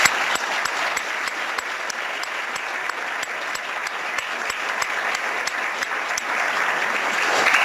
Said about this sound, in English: I think we should all give all these students a round of applause